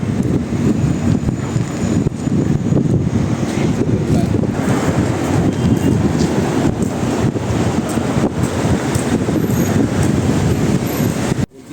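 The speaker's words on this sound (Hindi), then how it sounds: "अच्छी हवा चल रही है।" Steady outdoor wind at dusk buffets the microphone with a continuous low rumble and broadband rush, loud and unbroken for the whole stretch, with no speech over it.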